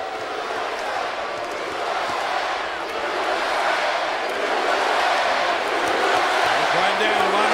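A wrestling arena crowd at a Raw event roars loudly and continuously, building in intensity and drowning out voices talking beneath the noise.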